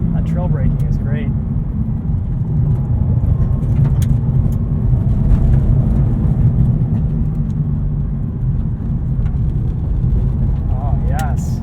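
Subaru WRX STI rally car on lifted rally suspension, engine droning steadily in third gear from inside the cabin, a continuous close rumble with faint brief transient clicks.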